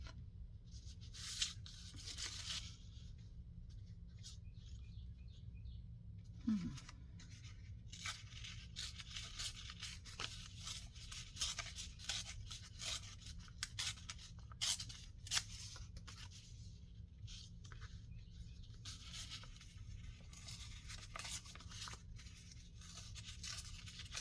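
Scissors snipping and rustling paper while making a junk journal, quiet close-up scraping and cutting noises scattered irregularly across a long stretch with no talking.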